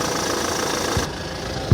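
A silver 2007 Kia Sorento diesel with automatic transmission idles steadily, a close, even mechanical hum with a faint rhythmic knock that shifts slightly near the end.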